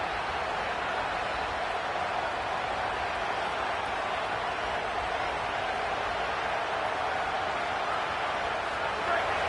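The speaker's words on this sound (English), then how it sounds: "This crowd trying to make life miserable for this offense." Stadium crowd noise in the College Football 27 video game, a steady loud wash of massed cheering and roar filling the whole stretch without breaks, with no distinct voices standing out.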